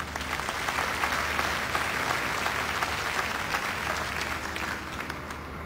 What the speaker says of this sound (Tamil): மீண்டும் ஒரு பலத்த கைத்தட்டு கொடுத்து அவர்களை உற்சாகப்படுத்தும்படி கேட்டுக்கொள்கிறேன்